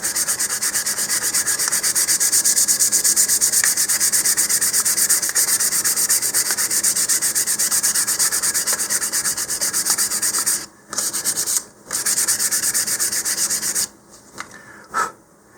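Sandpaper rubbing steadily over a Quest Sport model rocket, a loud continuous scratchy hiss that runs nearly unbroken for about ten seconds, then stops and starts in a few short bursts before trailing off.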